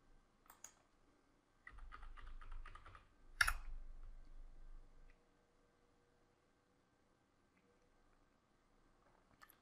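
Computer keyboard typing for a username and password login: a short cluster of quick, faint key clicks and a louder tap, close by, with near silence after.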